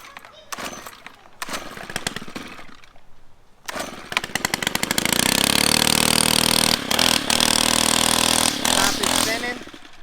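A repaired gas string trimmer is pulled several times with sputtering attempts, then fires and runs at a loud, buzzing high-revving whine with brief dips in speed, close by.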